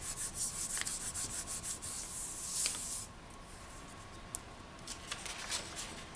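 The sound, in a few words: burnishing polymer clay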